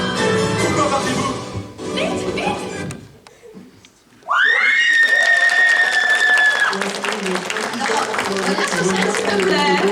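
A crowd at the Ludinam 2026 cosplay contest claps in a dense burst that fades to a near-silent pause, then gives way to loud sustained whistling tones over continuing crowd noise.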